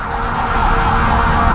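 A fire truck siren wails loud and close amid heavy EDSA traffic, a steady blaring tone over rumbling engines.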